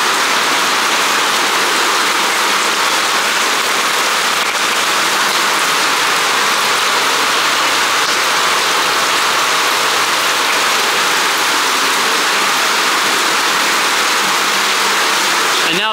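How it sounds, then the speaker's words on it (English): Steady rain pours down onto a shipping container in a dense, continuous hiss, loud and close, drowning out any other sound. "And now it's raining, it's just gonna fill it right back up."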